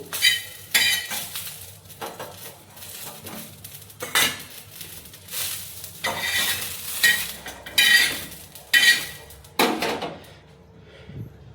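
Roasted green chillies scooped out of a pan with a metal utensil, giving repeated scraping and clattering knocks against the pan at irregular intervals, fairly close, with a faint sizzle between strokes.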